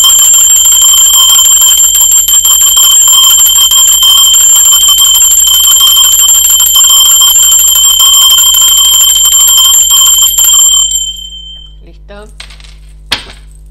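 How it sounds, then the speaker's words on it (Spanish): A bright metal bell, struck to open a tarot reading, rings loud and sustained with a long shimmering tone that fades out near the end, followed by a few faint clicks. "va campana"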